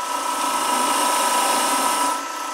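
Rotary power tool spinning at roughly 1500 RPM on a hatchet during restoration, a steady high whine held evenly and fairly close, easing off slightly at the end.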